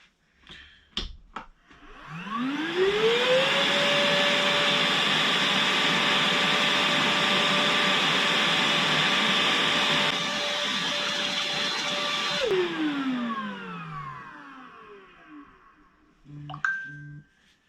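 A Hychika cordless wet and dry shop vacuum in a garage workshop spins up with a rising whine, runs loud and steady for about ten seconds, then winds down, with a few clicks and handling noises around it.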